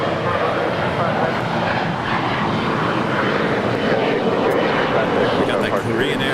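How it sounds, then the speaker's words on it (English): A Korean Air Cargo Boeing 777 at LAX sits lined up on runway 25 left, its jet engines giving a loud, constant roar that fills the scene without letup. "We got the Korean Air Cargo 777 heading to Seoul, flight 274, all lined up on 25 left"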